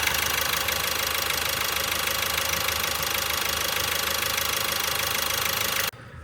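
A car engine idles steadily at close range, a dense, even mechanical hum with a faint rapid ticking running throughout, cutting off abruptly near the end.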